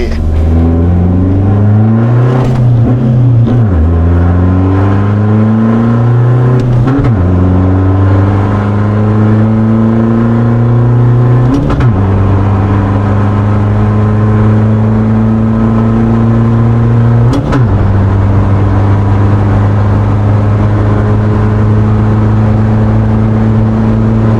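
A turbocharged Toyota Revo Fortuner with a variable-geometry ball-bearing turbo accelerates hard on a test drive. The engine note climbs loudly through several gears, dropping sharply at each shift, with a steady whirring drone throughout.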